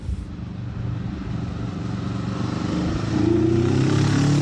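Kawasaki Vulcan S sport cruiser with the Ninja 650 engine: a steady engine rumble running throughout and swelling louder near the end, with no talk.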